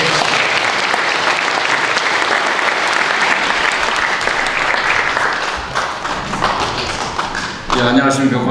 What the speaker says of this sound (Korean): 박수로 성원을 해주십시오.